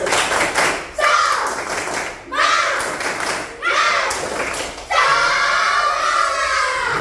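A school class led by a teacher claps out a rhythmic spirit chant, several bursts of group clapping with short pauses between, close and loud, with children's voices shouting along.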